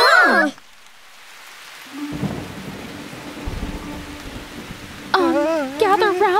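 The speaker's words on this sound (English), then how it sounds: "the rain started" Rain beginning in a cartoon scene, a low steady wash of rainfall with rumbling thunder swelling in the middle, framed by animated voices talking at the start and end.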